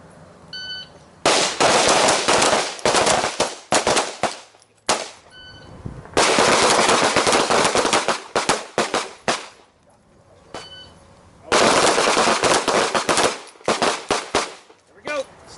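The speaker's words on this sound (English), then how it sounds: "One-handed shooting only." Pistol fired one-handed in a shooting drill: three rapid strings of loud, sharp shots, each roughly two seconds long, with brief quiet gaps between them.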